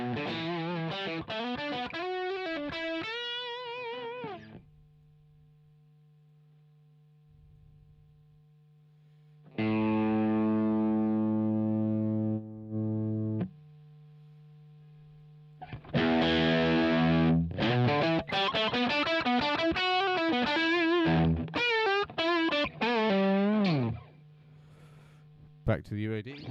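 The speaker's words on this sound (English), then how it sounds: "Now let's hear the Helix version of the same sound." Distorted electric guitar played through a Line 6 Helix, a sustained chord and bursts of fast lead notes, then a long held bright chord and more busy phrasing, with short gaps between passages.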